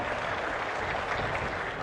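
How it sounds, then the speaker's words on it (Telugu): Audience clapping at a government review meeting with a chief minister and collector, dense and steady across the whole moment with no voices over it. "గట్టిగా చప్పట్లు కొట్టి చేసిన దానికి అభినందిద్దాం."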